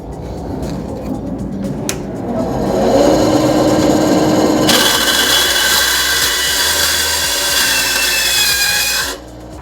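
A power tool cuts a bolt to length with a loud, continuous grinding whine that rises and then holds a steady harsh pitch for several seconds before stopping abruptly.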